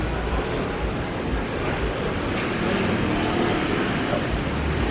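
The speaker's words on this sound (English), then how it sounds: "Now the traffic is getting through," Steady street traffic on Buakhao Road in Pattaya, Thailand, a continuous broadband roar of passing vehicles and engine rumble at moderate distance, with no talk.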